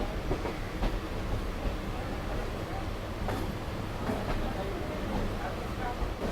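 A local train pulls out of Kharagpur Junction bound for Digha, its steady rumble and rail clatter rolling on continuously with faint clicks throughout.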